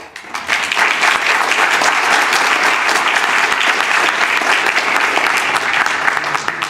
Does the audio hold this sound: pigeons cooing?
no